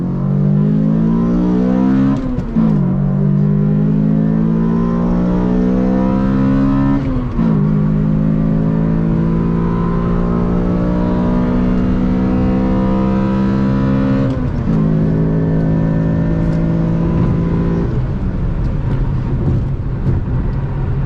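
An XRS car accelerates hard from up close, its engine note climbing steadily and then dropping as it shifts into second gear before pulling again; the engine is loud and continuous, with no talking.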